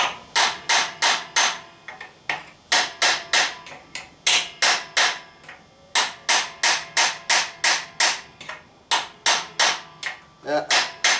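Hammer striking to seat a part during a GM 9.5 14-bolt axle rebuild, sharp metallic whacks in rapid bursts of four to six blows separated by short pauses, loud and close.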